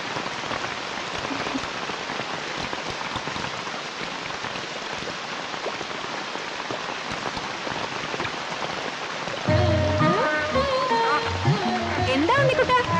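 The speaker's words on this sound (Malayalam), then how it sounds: "മഴ നനയാൻ മഴ വരാൻ കാത്തു നിൽക്കാ കുട്ടി." Rain falls outdoors as a steady, even patter on surfaces, and a voice joins over the downpour near the end.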